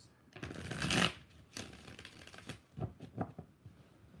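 A deck of tarot cards is shuffled by hand, with a soft, close riffle burst followed by several quieter papery slides and taps in an uneven rhythm, all at low volume.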